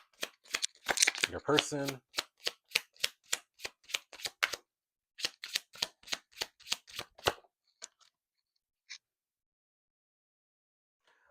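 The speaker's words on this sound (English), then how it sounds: "then we're gonna pull a couple cards" Tarot cards shuffled and pulled, giving a fast, even run of crisp card snaps close by. A voice speaks briefly near the start, and the cards go quiet toward the end.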